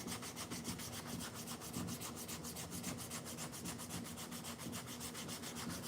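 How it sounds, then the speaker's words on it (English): Rhythmic back-and-forth sanding on a wooden slingshot, a steady scratchy rasp with regular strokes, close and fairly quiet, with no talking. "You are sanding a bunch of it off"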